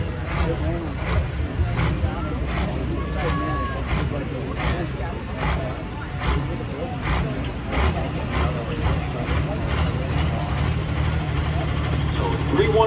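A pulling tractor at the Ontario County Fair tractor pull: a loud, steady engine roar with deep low rumble that holds without a break for the whole stretch.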